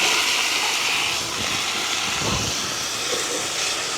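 Stingray pieces go into hot oil in a village kitchen, giving a loud, continuous sizzling hiss that swells briefly as they land, with no talk.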